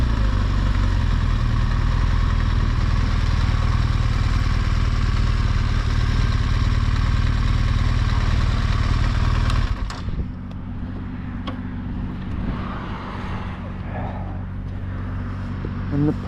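A touring motorcycle's engine idles steadily at a stop on a road trip through France, loud and close, then cuts off near the end, leaving quieter background ambience with faint clicks.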